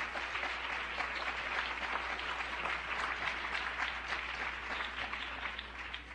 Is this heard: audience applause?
yes